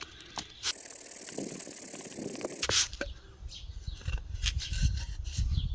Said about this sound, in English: today I'm just going to sand it.